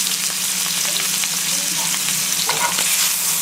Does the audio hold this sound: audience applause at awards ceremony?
no